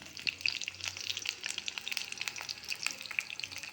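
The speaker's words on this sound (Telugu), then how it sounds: "ఇది బాగా వేగాలి, చిట్టుపట్లాడి వేగుతున్నది" Garlic cloves crackle and spit in hot oil alongside cumin, green chilli and curry leaves, a dense close sizzle full of sharp popping and spattering that runs on without a break and without talk.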